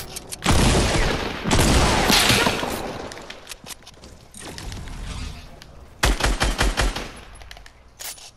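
Automatic gunfire in the Fortnite video game, loud, rapid bursts of shots with a heavy sustained volley early on and a quick rattling burst near the end.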